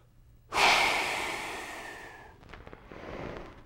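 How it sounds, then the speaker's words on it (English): One deep breath, a strong sudden inhale that tapers into a long, slowly fading exhale, heard close and alone. "Take a deep breath."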